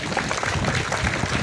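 A school crowd claps during a flag-raising ceremony in Ouakam, a short, busy burst of many hands at moderate distance.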